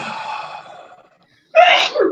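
A single sharp sneeze bursts out after a quiet pause, close and loud, following a stretch of fainter breathy sound.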